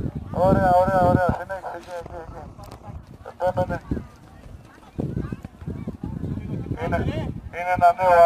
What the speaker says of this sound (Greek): Είναι ένα νέο άλογο σχετικά, το οποίο βλέπετε ότι χορεύει